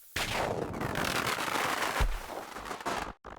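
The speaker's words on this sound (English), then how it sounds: "I crafted 7 bombs and started bombing the trees." Several bombs go off among trees in Stardew Valley, a rapid crackling chain of loud close blasts like fireworks, running continuously for a few seconds before cutting off abruptly.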